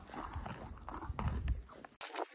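Horse being led on a walk, hooves clip-clopping in a quick uneven rhythm close by, with some rustling and handling noise.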